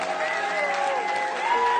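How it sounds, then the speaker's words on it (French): Audience applauding at a church gathering, a steady mass of clapping that fills the moment with a voice speaking over it. "acclamez bien"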